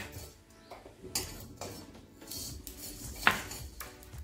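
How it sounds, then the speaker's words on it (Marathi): Coriander, cumin and fennel seeds are dry-roasted in a metal kadhai on a gas stove, heard as scattered scraping and clinking of a utensil against the pan, with one sharp metallic ping near the end. "मी कढई गॅसवर ठेवली आणि आपल्याला हलकसं भाजून घ्यायचं आहे"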